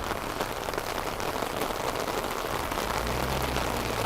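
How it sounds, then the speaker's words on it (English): Steady rain falling straight down at an outdoor Christmas market in a forest setting, a dense even hiss of drops on surfaces that holds constant throughout with no voices. "Seems to be falling straight down. It's just the whole rain thing."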